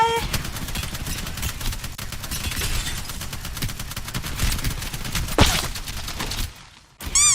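Rapid gunfire from the video game Apex Legends crackles in dense, continuous bursts close and loud, broken by a sharp impact near the end and a brief drop before firing resumes.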